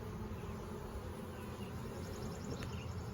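Honeybees buzz around an open beehive during an inspection, a dense continuous hum with individual bees droning close by, steady and fairly faint throughout.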